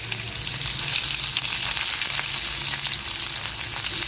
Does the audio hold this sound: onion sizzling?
yes